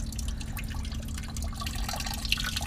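Engine coolant drips steadily from a removed lower radiator hose on a 2015 Subaru WRX, a close, continuous wet trickle of small splashes over a low background hum.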